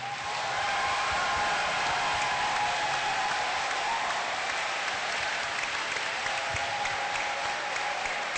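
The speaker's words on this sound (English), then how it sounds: "one more round of applause for the VAs." A convention hall audience at a voice-actor panel claps loudly and continuously, a sustained roar of applause with a faint tonal hum underneath and no voices over it.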